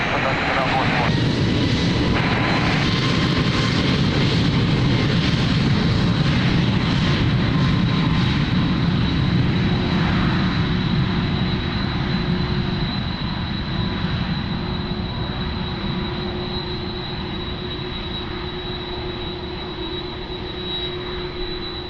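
An airliner takes off from runway 02 at Lisbon Airport, a loud sustained jet engine roar with a high whine that slowly fades as the aircraft climbs away.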